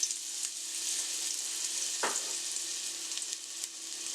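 Garlic, two cloves, sizzles steadily in about a tablespoon of hot oil as corn soup gets started, a constant close bright hiss with a brief louder burst partway through.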